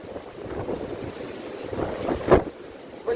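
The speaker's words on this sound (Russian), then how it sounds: "наверх поднимаешься, ветер еще сильнее" Strong stormy winter wind gusting in Antalya, Turkey, a steady roaring rush buffeting the microphone with louder gusts near the end; no voices.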